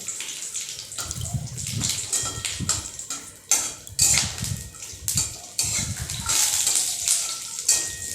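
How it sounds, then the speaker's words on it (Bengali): Almonds and cashews frying in a pan over a low gas flame, heard as close, irregular crackles and clinks with soft sizzling and scraping, continuing in uneven bursts. "লাল লাল করে ভেজে নেব আমন্ড আর কাজুটা"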